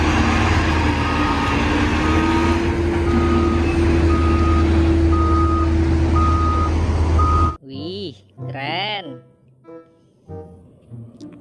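A toy sand truck gives out a steady run of repeated reversing beeps over a loud, constant background hum, then cuts off and a person speaks briefly.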